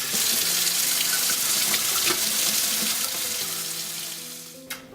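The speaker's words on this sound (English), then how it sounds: "We're gonna wash them 5-6 times until this water becomes clearer, if not clear." Red lentils are rinsed in a sink under a running kitchen tap, a loud, steady splashing gush that tapers slightly before stopping, with a small clink near the end.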